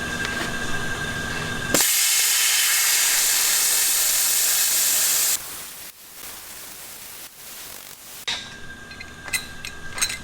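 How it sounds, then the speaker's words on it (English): A plasma cutter slices the sway bar perches off a Ford F100 axle, a loud steady roaring hiss that holds for several seconds, cuts out abruptly and gives way to quieter shop noise and clanks, with no talking. "get the plasma out and try to make some careful cuts and just pull these sway bar perches off of the axle"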